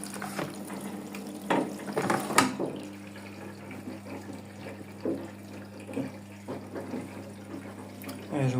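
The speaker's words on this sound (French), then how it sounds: "Hop, mise en eau, premier rinçage, de toute façon il y a 2 rinçages. Voilà, en eau froide." A new washing machine takes in cold water for its first rinse: a continuous rush of filling water with scattered clunks and a brief louder burst near the start, fairly close by.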